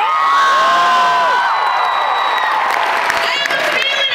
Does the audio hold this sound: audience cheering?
yes